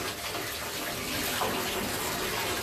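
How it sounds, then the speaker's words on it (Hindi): Hot water runs steadily from a tap into a bathtub, a constant broadband rush that stays loud and even throughout, with no talking. "गर्म पानी आ गया है।"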